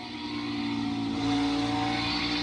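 A NASCAR stock car goes back to full throttle, its engine note climbing into a loud, sustained howl as the revs build.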